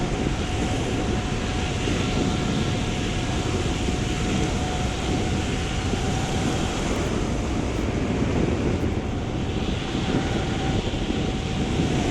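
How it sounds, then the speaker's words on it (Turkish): Steady, roaring wind buffets a Specialized mountain bike descending from 2,000 m altitude, with a faint constant whistle from wind hitting the holes in the bike frame running under the rush. "bisiklet o kadar fazla delikli şunlu bunlu ki rüzgar buna çarpınca garip garip sesler geliyor"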